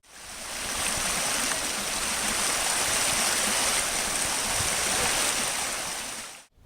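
Steady, broadband rush of the flowing Frankstown Branch of the Juniata River, loud and close with no breaks, cutting off abruptly at the end.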